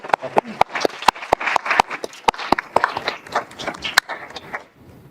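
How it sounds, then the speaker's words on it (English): A handful of people clap in sharp, distinct claps at a parks and recreation commission meeting, sparse and uneven, with murmuring voices underneath, tapering off toward the end. "if I could just get a round of applause for our new commissioners"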